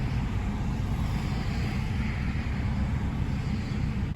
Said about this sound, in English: And of course there's traffic everywhere.